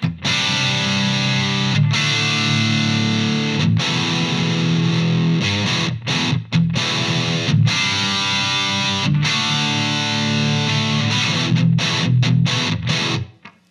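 Electric guitar through the gain channel of a Bogner Goldfinger Superlead amp in 68 mode, playing distorted sustained chords and riffs with short breaks between phrases, loud and upfront with no talking.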